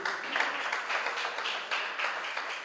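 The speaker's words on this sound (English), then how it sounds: "let's clap this one." Spectators at a Spell Africa International spelling contest give a short round of applause for contestants, a dense, even clapping that runs steadily for a few seconds with no voices on top.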